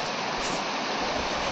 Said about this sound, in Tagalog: Medyo maingay lang yung agos ng tubig